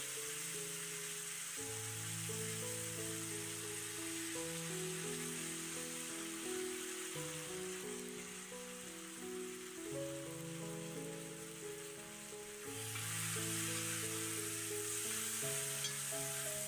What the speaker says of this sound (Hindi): और देखिए पूजा ने आलू डाल दिए हैं।